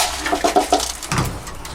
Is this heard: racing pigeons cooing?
yes